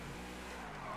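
A car in GTA V skids and drifts with a steady, sustained tire hiss and engine drone over one continuous second, fairly loud and unbroken.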